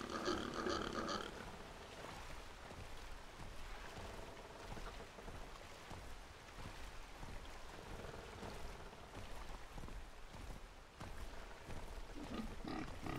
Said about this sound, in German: Sind das die Schweine, die hier diese Geräusche machen?